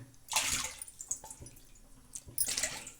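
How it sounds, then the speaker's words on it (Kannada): Four small bowls of water poured into a pan for masala rice kadubu. Two separate splashy gushes are heard up close, with soft drips and clinks between them. "ಇವಾಗ ನೀರು ಹಾಕಿದ್ದೀನಿ"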